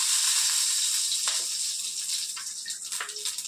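Nigella seeds (kalonji) tempering in hot oil, a steady bright sizzle and hiss with small crackles, close and continuous, with no talking.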